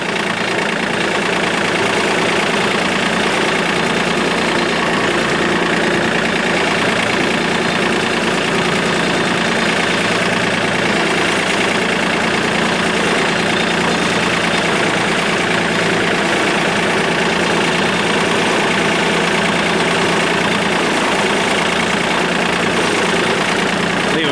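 A tractor engine idles steadily and loudly for the whole stretch, a constant mechanical rumble with no pauses.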